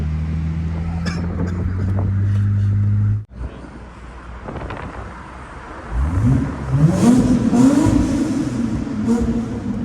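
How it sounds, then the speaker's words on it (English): A steady engine drone cuts out, then a manual-swapped Lexus GS300's engine revs and climbs in pitch, rising loudly over road rumble. "sounds like a Supra"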